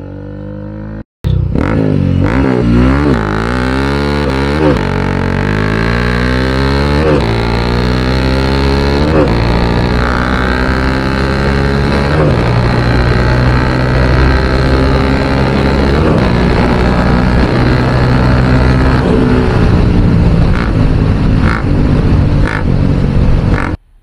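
A car with a one-piece exhaust pulls hard down an empty road, loud and close, climbing through gears in repeated rising revs that fade in pitch between shifts for over twenty seconds, with no speech.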